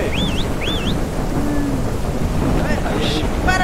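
Steady rain and a low rumble of thunder fill the game Ranch Simulator, with a few bird chirps and whistles above the continuous downpour.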